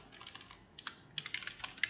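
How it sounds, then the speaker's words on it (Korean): Someone types on a computer keyboard in Korean, producing soft, close clicks in uneven bursts. A quiet stretch falls between the bursts, and the key taps grow denser and slightly louder toward the end, with no talk over them. "제가 지금 한글로 타이핑을 했고"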